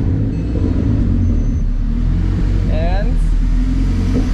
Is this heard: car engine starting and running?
yes